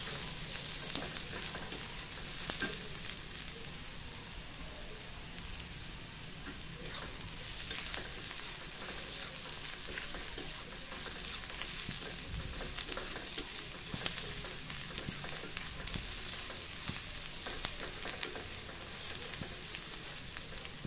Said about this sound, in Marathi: हे लसूण खोबरं सुद्धा आपल्याला चांगलं खरपूस खमंग खोबरं चांगलं भाजेपर्यंत आपल्याला आता ह्या कांद्यामध्ये परतून घ्यायचं आहे